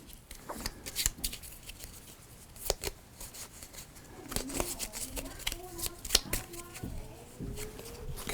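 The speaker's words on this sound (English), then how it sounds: "So let me shuffle these up." Cards from the Sine Tempore board game are shuffled close by, producing soft, repeated riffling and rustling bursts with a few sharper snaps throughout.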